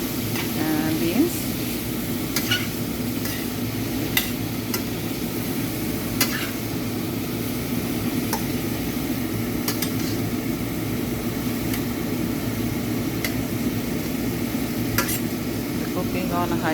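Vegetables for tacos, softening before beans are added, sizzle loudly in a pan on high heat while being stirred, with steady frying hiss and repeated sharp clinks of a utensil against the pan throughout.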